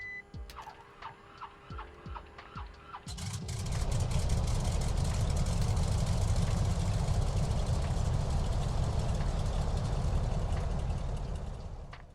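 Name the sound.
Jacobs L4 7-cylinder engine of WMF-5 plane, Microsoft Flight Simulator 2020 video game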